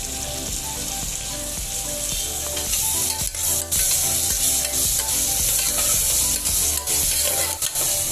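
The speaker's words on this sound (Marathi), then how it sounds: "तशी तेलामध्ये थोडी परतून देते भाजी इथे मी आता मगाशी वाटप जे दाखवलं तुम्हाला खोबरं कोथिंबीर अद्रक मिरची घालून घेते" Vegetables sauté loudly in oil with a ground paste of coconut, coriander, ginger and green chili, giving a dense, constant close-up sizzle with scraping stirs throughout and no talking.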